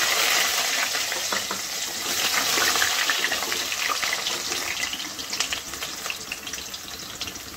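Diced potato fries in oil in a karahi for a fish-roe fritter kalia, a soft steady bubbling sizzle with faint stirring, fairly quiet and without talk.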